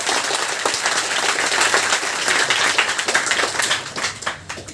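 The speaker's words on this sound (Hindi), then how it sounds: "एक बार और ताली दे दी" An audience at a student award ceremony claps, forming a burst of dense applause that builds and then thins toward the end, with no talking.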